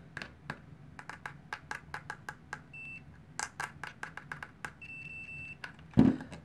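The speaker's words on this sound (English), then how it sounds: "Testing out continuity, here we go." A pen-style multimeter sounds its continuity beeper during a test with the default probe: a steady high tone cuts in twice, the second longer, amid sharp clicks and taps of the probes, followed by a loud thump.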